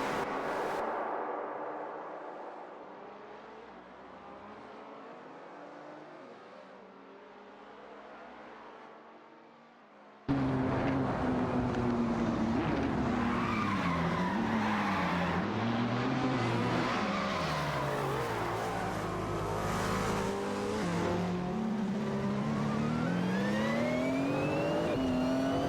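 Race cars in an AI-driven racing video game, engines whining and shifting pitch as cars jostle and overtake, a quieter muffled stretch giving way to loud, dense close engine roar with rising and falling tones.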